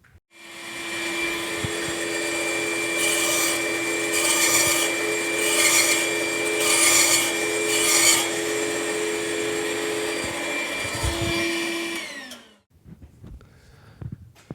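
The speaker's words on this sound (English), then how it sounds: "I'm just gonna run it along the blade and just shave some off" A wooden xylophone bar is pushed along a spinning saw blade to shave it down, giving a loud steady motor whine with gritty rubbing pulses, then the machine spins down and falls quiet.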